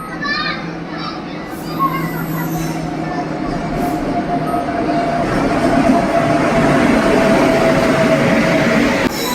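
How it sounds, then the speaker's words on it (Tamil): Train 22616, the Tirupati Intercity, pulls into platform 5 of a station with rolling rumble and high wheel squeals, surrounded by lively crowd chatter and children's voices throughout. "22616 திருப்பதி இன்டர்சிட்டி கரெக்டாக 8:40 பிளாட்ஃபார்ம் நம்பர் 5க்கு வந்திருக்கு"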